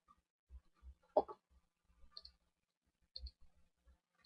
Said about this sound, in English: When I click on any of them